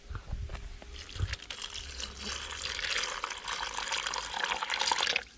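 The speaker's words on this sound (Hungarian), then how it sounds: "Ugye felöntöm vízzel, hogy ellepje." Water poured over 8 mm micro pellets for a method feeder, a steady splashing and gurgling pour that builds over several seconds, close and fairly loud, with no talking.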